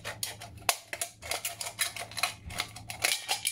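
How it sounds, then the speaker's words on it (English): Scissors make sharp metallic snips and crunching cuts through the top of a tin can in a rapid, irregular series, close and crisp. "you're going to pierce it with your scissors and then cut the top"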